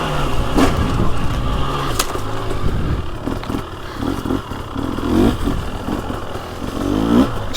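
A 2023 TX300 Heritage Edition dirt bike rides through fall woods on a leaf-covered trail, its two-stroke engine droning steadily close by with repeated throttle blips and revs, plus some rattling.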